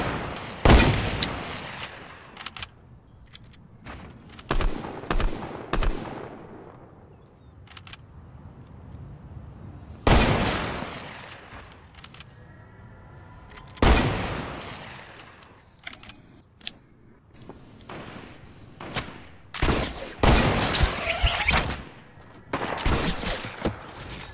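Gunfire in a shooter video game comes in scattered loud bursts and single cracks with quieter stretches between, some shots fading with a long echo tail, with no talk heard.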